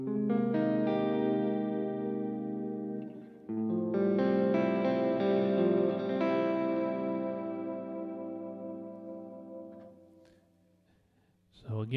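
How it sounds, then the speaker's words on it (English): Clean guitar tone from a VVT X-40 amp run through an Eventide PitchFactor for stereo spread, chorused sustained chords ringing and fading, a second strum midway, trailing off near the end before a faint new attack. "So I'll add the Eventide pitch factor for some spread."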